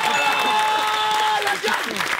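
A studio audience at a game show claps under a sustained musical tone and voices, the applause continuing throughout before speech takes over at the end.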